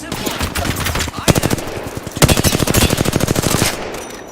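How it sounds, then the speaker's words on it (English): Rapid video-game gunfire rattles out in two dense bursts of machine-gun shots during a battle-royale firefight, loud and close, over background game sounds. "The enemies are shooting at me."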